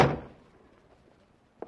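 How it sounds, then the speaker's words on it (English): A door in an old-time radio drama is shut with a single solid thud that fades quickly into quiet room tone, followed by a faint small knock at the very end. "Close that door, Grace."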